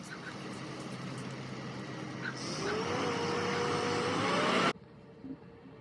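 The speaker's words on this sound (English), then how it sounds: "The first truck left, or is leaving, and the second truck is in process, and there's a third truck that just pulled in" Heavy dump trucks working at a building site for a 30x40 metal building, a steady loud engine rumble with a rising whine that grows nearer, then cuts off abruptly, leaving quiet background.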